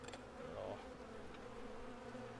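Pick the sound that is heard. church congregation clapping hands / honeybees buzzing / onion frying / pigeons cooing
honeybees buzzing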